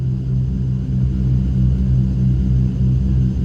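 A Cessna 310 twin-engine aircraft takes off with a loud, steady drone from both engines and a heavy low rumble throughout, heard from inside the plane with no talking.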